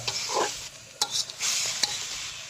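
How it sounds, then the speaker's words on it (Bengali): Red amaranth greens stir-fried in a pan, with a steady sizzle broken by sharp scraping and clacking stirs of a utensil, close and fairly quiet, with no voices. "এখন বেশ কিছু সময় এটা এর সাথে একটু নাড়াচাড়া করে ভাজা ভাজা মতো করে নেব"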